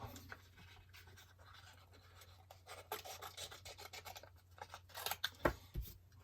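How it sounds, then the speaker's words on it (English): Close, crisp snipping and rasping cuts of scissors through paper, a series of irregular strokes growing louder toward the end, with no talking. "I'm going to grab my scissors, and then we're going to cut that out."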